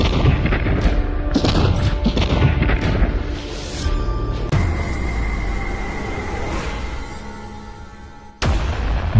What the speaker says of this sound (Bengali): এরপরে ব্রাশ ফায়ার।